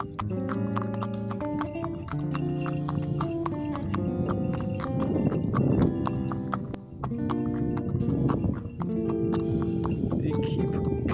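A horse on a solo trail ride along a road toward a city centre clip-clops with sharp, rhythmic hoof strikes close by, while a rider talks over the steady steps.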